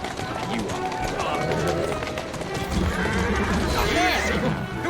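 Horse galloping in Assassin's Creed Syndicate, with steady running hoofbeats, neighs and whinnies, plus a dense bed of game street noise throughout. Someone talks over the gallop.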